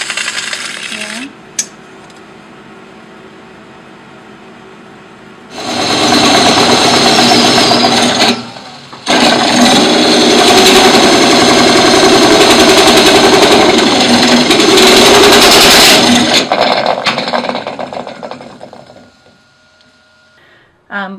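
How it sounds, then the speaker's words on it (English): A wood lathe rough-turns the hollow inside of a wooden bowl about 12 inches across, with a loud, harsh cutting roar in two long bursts broken by a brief pause, then fading out, with quiet stretches before and after. "I'm now going to turn the inside of the bowl and take out all of that extra wood that we don't need in here"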